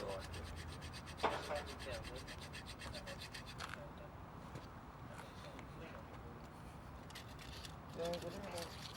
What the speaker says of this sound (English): Careful extrication work was required to be able to cut through the specially hardened steel cuffs.